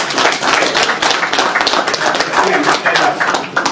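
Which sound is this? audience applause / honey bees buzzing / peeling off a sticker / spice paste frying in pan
audience applause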